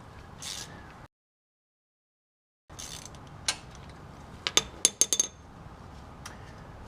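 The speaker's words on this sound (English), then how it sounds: "we're going to go ahead and remove the diff cover bolts from the diff cover" Metallic clinks and ratchety taps from a 9/16 socket backing out the differential cover bolts on an Ultimate Dana 60 axle of a Jeep JK Wrangler, a cluster of sharp close ticks following a brief silent gap.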